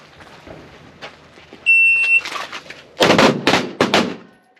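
A shot timer gives one sharp electronic beep to start a speed and accuracy drill with a Shadow Systems MR920 pistol, followed about a second later by a quick burst of loud gunshots.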